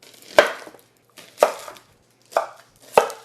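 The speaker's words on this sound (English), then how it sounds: "Next, we're gonna do 2 onions sliced. Gonna go cut this lengthwise." An onion being sliced lengthwise with a knife on a cutting board: four separate crisp chops at uneven intervals, close and clear, with silence between them.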